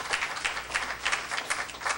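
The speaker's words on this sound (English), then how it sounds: "Clap your hands for God arising in your situation." A church congregation clapping hands in a steady, rhythmic beat, the many claps blending into a soft, even pulse.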